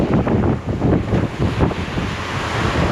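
Big storm waves and strong wind on the Pacific Ocean, a continuous loud roar of surf with gusting wind buffeting the microphone throughout.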